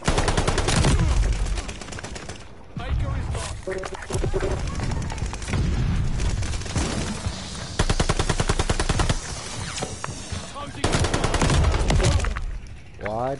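Loud, close gunfire in Call of Duty Vanguard, with repeated automatic bursts and heavy shots over a busy game soundscape, and voices in the game mix.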